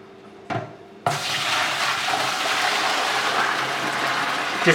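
Liquid mixture for fast-fermenting vodka pours into a clean, sanitized fermenter, starting after a short knock as a steady, close splashing gush that keeps running with no talk.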